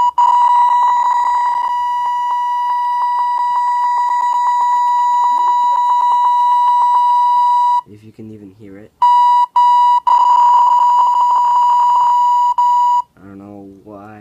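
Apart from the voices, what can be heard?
square duty synth beep from rFXGen sound generator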